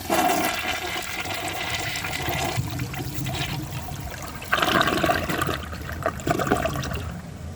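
A Mansfield Alto comfort-height toilet flushes nearby, a strong rush of swirling water that siphons down and then gives way to a gurgling refill trickle, with no voices.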